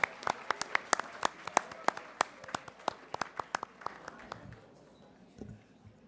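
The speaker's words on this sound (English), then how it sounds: "How about a round of applause for this group as well?" An audience at a Board of Education meeting claps in a loose, moderately paced round of applause that thins out and fades over several seconds, with some quiet voices underneath.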